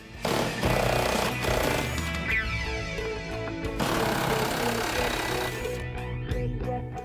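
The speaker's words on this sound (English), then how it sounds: "Now I'll start by removing the nuts from the trans mount to the cross member." A power tool spins off the transmission mount nuts under a 2011-2023 Ford Mustang, giving loud, dense rattling bursts with short pauses between them, close to the listener and with no talking.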